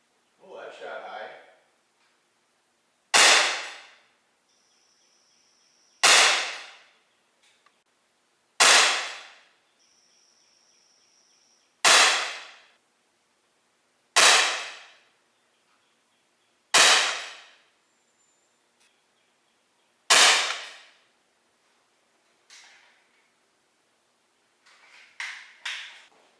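A Umarex SA10 CO2 .177 air pistol fires about eight sharp, loud pops spaced roughly every three seconds, each a crisp crack with a short decay, with near silence between shots and some quiet talk at the start and end.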